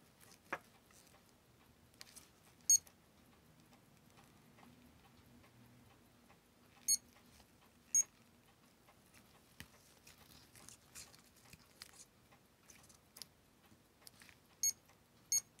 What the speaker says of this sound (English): Alarm is loud as heck.